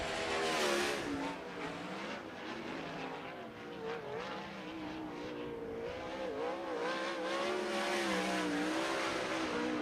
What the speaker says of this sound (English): Chris Andrews' first lap will be 10th quick